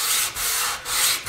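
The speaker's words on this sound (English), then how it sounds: "So I just like to do it with a sanding block anyways." A sanding block is pushed by hand across a figured maple electric guitar top, giving close, loud, broad rasping strokes in a steady back-and-forth rhythm, with brief dips between three passes.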